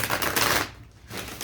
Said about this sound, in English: I'm going to shuffle and cut the deck because I just want one card